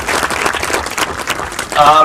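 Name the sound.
applause for a student's answer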